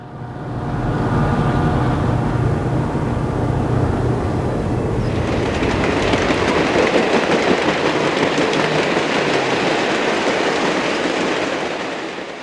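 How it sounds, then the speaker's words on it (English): A long Penn Central freight train rumbles past steadily, wheels clattering and a metallic hiss rising partway through, loud and continuous from start to finish. "The train slowly disappears into a tunnel in the late afternoon light."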